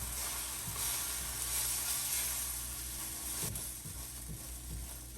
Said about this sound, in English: Get our scrambled eggs started. It won't take them long on this hot griddle.